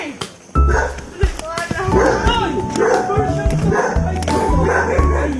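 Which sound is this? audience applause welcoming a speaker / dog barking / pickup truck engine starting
dog barking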